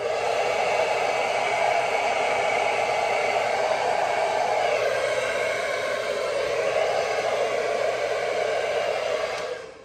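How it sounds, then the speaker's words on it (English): A handheld hair dryer blows steadily and loudly up close while hair is styled with a comb or brush, an unbroken roar that cuts off at the very end. "and I'm gonna use the dryer."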